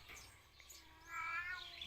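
A cat gives a thin, fairly faint meow rising toward the end of a short moment, heard over quiet outdoor morning ambience.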